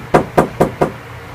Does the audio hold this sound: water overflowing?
no